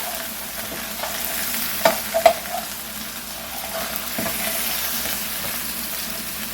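Italian sausage browning in a hot pan, a steady crackling sizzle with occasional stirring scrapes and a couple of sharper spatters, close and continuous.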